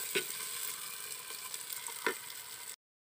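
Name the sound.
onion, tomato and green chilli frying in oil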